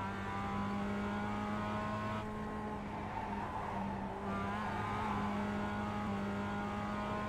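A race car engine holds a steady, loud drone on a warm-up lap in the iRacing sim game, running continuously with a slight dip in pitch midway and no voices.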